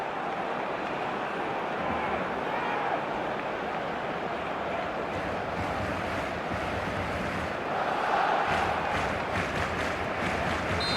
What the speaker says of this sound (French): Et la foule réagit sur ce magnifique geste défensif.